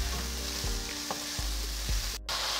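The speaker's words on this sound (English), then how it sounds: "Now this only needs to cook until you begin to smell that garlic." Garlic and chopped vegetables sizzle and fry in a pan for lettuce wraps, a steady close crackle broken by a few stirring scrapes and taps.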